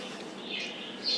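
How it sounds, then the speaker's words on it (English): Birds chirp faintly in the background, a few thin high tweets over a steady low indoor hum. "You have birds in the background?"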